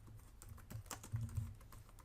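Computer keyboard typing while entering a text value for a leader label in a CAD drawing; quick, irregular clicks and taps close by for about two seconds, with no one speaking.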